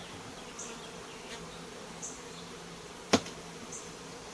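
Honey bees buzz faintly around an open eight-frame hive box, a soft steady hum with scattered insects passing close, plus one sharp click partway through.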